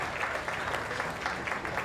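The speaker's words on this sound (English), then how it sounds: "And a nice round of applause" Steady crowd applause from spectators at Klockner Stadium during a women's college soccer match between Radford and Virginia, an even wash of distant clapping with no talk.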